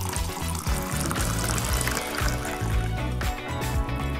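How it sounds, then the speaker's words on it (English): Warm water poured into a tube during a colour-changing doll reveal, a steady, close gurgling stream with liquid splashing continuously. "All we need is warm water. We'll fill the tube with it like this,"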